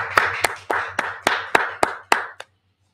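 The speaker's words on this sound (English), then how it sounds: "Let's clap it up." Eight evenly spaced, sharp hand claps ring out in a slow, steady rhythm at the close of a Feast of Purim gathering, then stop, leaving silence.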